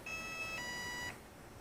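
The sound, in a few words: RC monster truck ESC boot-up beeps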